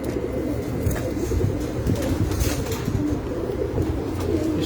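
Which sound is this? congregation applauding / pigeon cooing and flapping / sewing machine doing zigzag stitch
pigeon cooing and flapping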